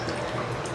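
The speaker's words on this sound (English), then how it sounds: "We are dripping" Water dripping from a plumbing leak indoors, a brief close patter of drops and trickling liquid with no voices.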